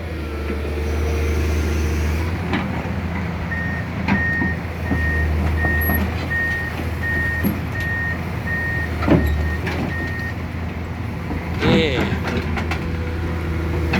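A backhoe loader climbs onto another truck while a steady intermittent reversing beep repeats under continuous heavy engine rumble, with people talking in the background.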